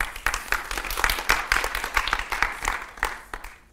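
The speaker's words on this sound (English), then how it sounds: "So please give a round of applause to the panel." Audience applause for a documentary panel at a film festival screening, lively uneven clapping with sharp individual claps standing out, fading toward the end.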